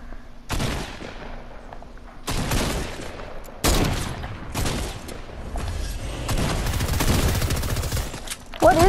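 Heavy weapon gunfire in Fortnite comes in loud, dense bursts, with several rapid volleys broken by short gaps and sharp blasts near the end.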